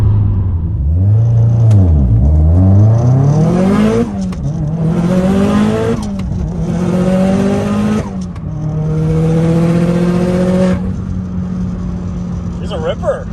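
A 500-horsepower Subaru STI engine revs and pulls hard through repeated gear climbs, each rising tone sweeping upward before dropping at the shift, loud and close from inside the car during a ride along.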